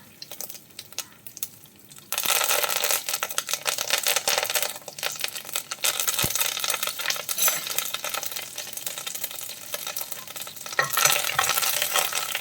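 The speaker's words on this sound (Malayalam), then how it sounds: "കടുകൊക്കെ പൊട്ടി വറ്റൽമുളകൊക്കെ ഒന്ന് മൂത്ത് വരണം." Mustard seeds, dried red chillies and curry leaves fry in hot oil for a Kerala ivy gourd thoran, starting with a sudden loud, steady sizzle after two quiet seconds, with crackling pops running throughout.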